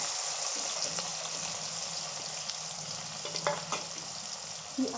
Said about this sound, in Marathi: आता हा कांदा आहे, हा कांदा मी घालणार आहे असं।